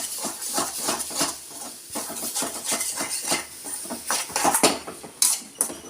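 A spoon scrapes and clatters against a pan again and again in a quick rhythm while egg and drumstick flower fry is stirred. A soft sizzle runs underneath, with no talking.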